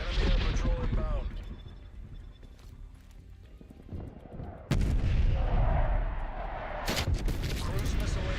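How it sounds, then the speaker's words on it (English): Cruise missile strike explosions in the video game Black Ops Cold War: two sudden loud blasts land a couple of seconds apart in the second half, each leaving a rumbling tail over busy game noise and clattering effects. "Cruise missile inbound."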